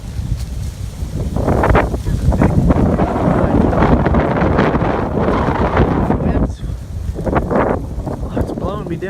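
Strong storm wind gusts roar and buffet the microphone outdoors on a hillside, loud and turbulent throughout, with a voice speaking briefly amid the rush.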